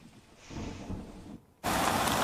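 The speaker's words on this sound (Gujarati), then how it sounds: "સાર્વત્રિક જે વરસાદ છે તે વરસી રહ્યો છે" Rain patters faintly, then abruptly becomes a loud, dense downpour hiss for the final stretch, during heavy monsoon rain in Panchmahal, Gujarat.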